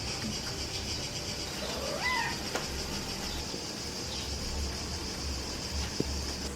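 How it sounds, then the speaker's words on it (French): A single cat meow rises briefly and fairly faintly over a steady background hiss, then the scene falls quiet again. "C'est notre chat"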